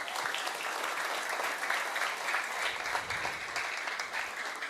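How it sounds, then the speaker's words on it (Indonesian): A crowd applauds inside a mosque during a Maulid Nabi Muhammad celebration, steady dense clapping filling the hall for several seconds without letting up. "Tepuk tangan buat kita semuanya."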